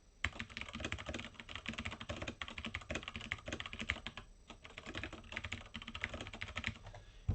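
Comments are typed on a computer keyboard in quick, steady bursts of key clicks, close and fairly quiet, with one short pause partway through and no talking.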